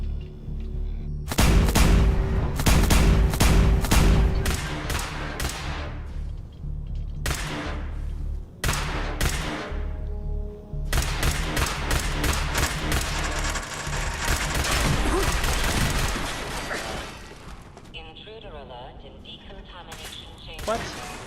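Heavy enemy gunfire rattles down a hallway in Fallout 4, loud sustained bursts of automatic shots with short pauses between volleys, booming impacts mixed in and a player's voice intermittently under the din.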